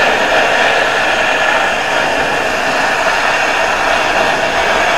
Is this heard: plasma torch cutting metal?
yes